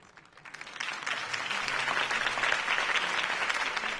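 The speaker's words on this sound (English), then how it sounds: "If only Mr. Wayne, my campaign's largest backer, could have heard that applause" A crowd at a political campaign speech in Batman: The Telltale Series bursts into applause, rising quickly from a quiet start into sustained, full clapping that stays strong to the end.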